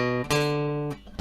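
Notes of an arpeggio ring up a chord shape on a sustained, clear-toned instrument, with a few plucked or struck notes overlapping and decaying before a softer final attack.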